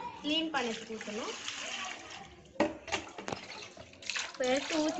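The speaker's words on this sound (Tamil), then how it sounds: "தண்ணி எடுத்து இதில் இன்னும் கொஞ்சம் ஊற்றிக்கலாம்." Water poured into a bowl to clean fish for a fish fry, splashing and running in bursts while someone talks over it close by.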